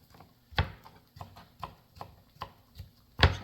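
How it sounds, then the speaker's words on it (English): A knife chopping food on a board before a gyro is assembled, with about eight distinct cuts at an uneven rhythm. The cuts are close and fairly quiet, and two of them are heavier than the rest. "Chop it up, chop, chop, chop."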